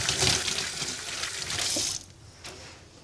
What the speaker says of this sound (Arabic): نغسل يدي.